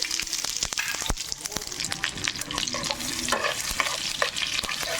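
Ginger garlic paste frying and being stirred in hot oil for an egg pickle, a steady close sizzle with scraping stir strokes and brief voice sounds over it.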